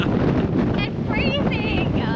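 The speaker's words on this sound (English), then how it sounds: "Windy out here." Wind buffets the microphone on an exposed Kangaroo Island coast, a continuous gusty roar with faint higher whistling tones and a brief voice underneath.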